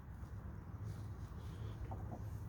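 A large brown chicken, about a year old, clucks softly a few times near the end amid a low, steady background rumble; no one speaks.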